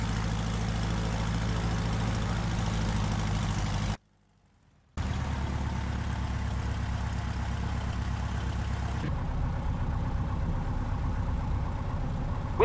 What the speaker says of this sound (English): I'll taxi us up to the runway